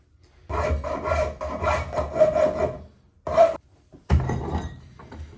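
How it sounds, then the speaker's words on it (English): Close-up rough filing with a hand file while shaping a part for a homemade planishing hammer: steady rasping strokes in quick succession, a short pause, one more stroke, then another burst of filing. "So we're just filing this very, very roughly at the moment."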